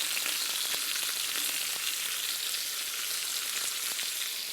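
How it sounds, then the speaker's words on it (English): Bell peppers, onions and potatoes fry in a skillet, a loud, steady, dense sizzle and crackle filling the whole clip with no talking over it. "add our beautiful bell peppers. They're going to cook down too with the onions and the potatoes."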